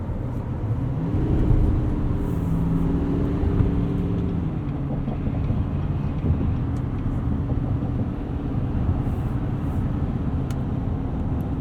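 A 2020 Chevrolet Silverado 2500 Duramax 4WD LTZ crew cab pickup cruising, a steady low engine and road rumble with drivetrain hum, constant and moderately loud throughout with no talk.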